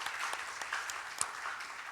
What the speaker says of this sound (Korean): 감사하다고 박수하겠습니다.